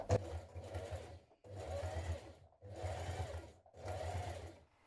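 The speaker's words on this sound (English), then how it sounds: "So stitching around this neckband, so the neckband is facing upwards" Topstitching around the neckband of a Burda 6602 top, a sewing machine runs in four even bursts with brief pauses between, close and fairly quiet.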